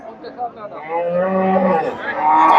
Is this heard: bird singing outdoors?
no